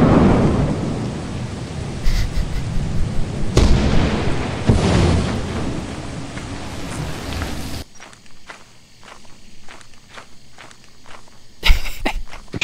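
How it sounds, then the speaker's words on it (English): Heavy thunder rumbles and roars through a stormy scene in the video game Lethal Company, loud and sustained, then cuts to quieter rapid footsteps and rattling before a final sharp crack. "I'm about to get struck with lightning because of the amount of items that I'm carrying"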